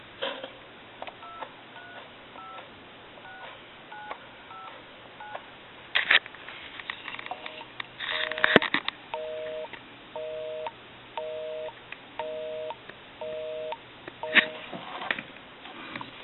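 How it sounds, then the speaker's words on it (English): A series of short touch-tone beeps dialed in two bursts, separated by a clunk and faint rustling, on a quiet phone line. "we'll dial one other number"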